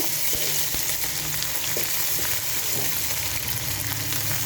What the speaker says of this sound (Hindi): अब इस वक्त मैं इसमें अदरक लहसुन का जो पेस्ट है ना साथ फ्राई करूँगी